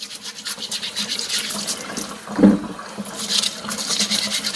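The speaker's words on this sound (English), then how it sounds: "So I give that a good scrub" A brush scrubs vegetable skin under what sounds like running water, a steady close bristly rasping with a brief louder swish in the middle.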